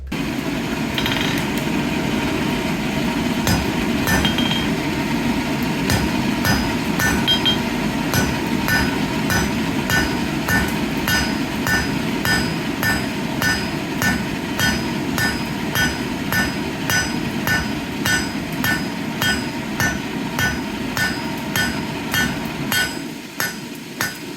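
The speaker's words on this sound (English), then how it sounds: "slowly bring my hammer back to draw down what will be the neck and the stem of the leaf" A blacksmith's hammer strikes hot steel on an anvil while forging a leaf, drawing down its neck and stem: a steady, loud run of ringing metallic blows, evenly spaced and continuing for the whole stretch, with no talking.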